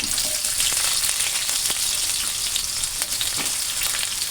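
Onion, ginger and garlic frying in hot oil with crackling cumin seeds for matar masala broccoli, a loud, dense, unbroken sizzle with occasional stirring clicks, close and without voices.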